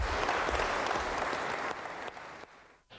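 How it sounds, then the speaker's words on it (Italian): Steady applause from a large audience, filling the space and then thinning out and fading near the end. "fate un applauso"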